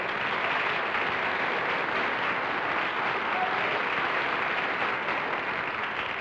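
Sustained studio audience applause fills a 1957 live television panel game show, a dense, steady roar of many hands clapping at even loudness throughout with no break.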